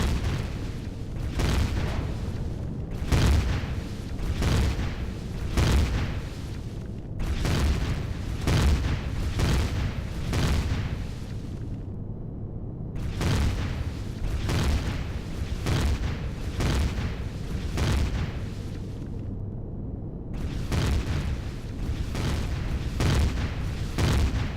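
Heavy weapons fire in a space combat video game, plasma bolts and rockets, as relentless rapid booming volleys, loud and close, broken by a few short pauses across nearly half a minute with no talk.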